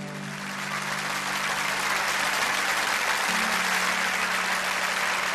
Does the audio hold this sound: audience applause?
yes